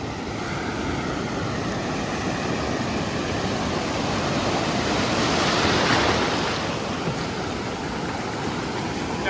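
Sea waves wash up over beach rocks on the shore at Alibag, a steady broadband roar of surf that swells slightly in the middle and stays loud throughout, with no voices.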